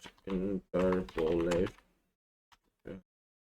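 Fingers tapping the word 'interpolate' on a computer keyboard, a handful of light keystrokes that are mostly masked by a voice talking over them.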